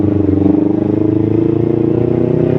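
A Kawasaki Ninja 250 Fi motorcycle fitted with a racing exhaust idles close by, a loud, steady, throbbing rumble with an even pulsing rhythm.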